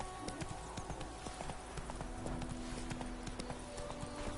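Horse hooves galloping in The Witcher 3 game, a steady rapid clip-clop rhythm running throughout, close and fairly loud over a dense background of game ambience.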